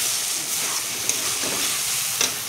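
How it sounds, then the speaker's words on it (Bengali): Spice masala for a soybean curry is fried and stirred in a pan, giving a dense, even hiss of sizzling oil with a few light scraping clicks, close and steady without voices. "এই দেখো, মশলাটাকে কষাচ্ছি ভালো করে।"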